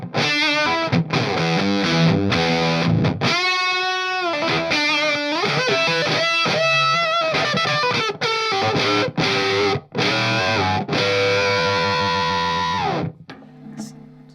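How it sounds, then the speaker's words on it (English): An electric guitar runs through a 1970s Japanese fuzz pedal with rich octave tones, giving loud, thick, buzzing distorted notes and bends that play continuously up close, then end on a held chord. "70s, really full-on, very octave-rich Japanese fuzzes"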